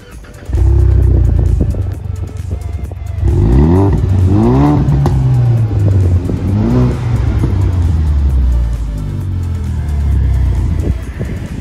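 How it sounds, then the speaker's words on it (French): A Ford Mustang engine starts with a loud burst, then revs up several times in deep rising and falling surges before settling into a rumbling idle close by. "Tu veux qu'on allume le moteur? Allez, c'est parti."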